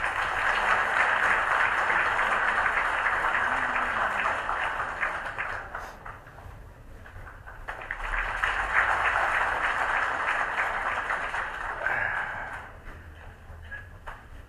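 An audience welcomes the leader of the Liberty Korea Party with applause at a Park Chung-hee 100th birthday talk concert, the clapping swelling, dipping midway, then rising again before tapering off.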